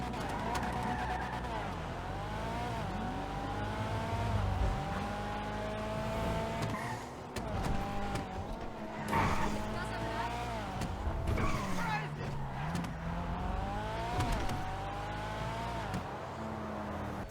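Engine of the Annis Remus sports car in GTA Online, revving and shifting through gears with rising and falling whines, tires squealing and skidding, loud and continuous.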